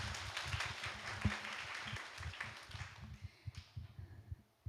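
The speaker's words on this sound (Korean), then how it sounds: "우리 큰 박수로 감사의 마음을 전하겠습니다" Church congregation applause, a crowd clapping together and then thinning out to a few scattered claps as it fades.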